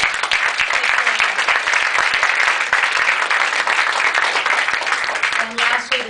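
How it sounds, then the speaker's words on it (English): An audience at a city candidate forum applauds the candidates, with loud, steady clapping filling the whole stretch close to the microphone. "So an applause for the candidates."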